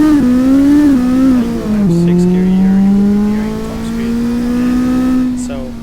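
A Formula Student race car's engine drones and climbs through gears in a racing game lapping Interlagos, a steady loud buzzing tone that dips at a shift and then rises slowly, with no talk over it.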